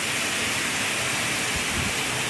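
Water streams steadily from a half-inch borehole pipe into a chlorinator, making a continuous, even rushing hiss with no pauses.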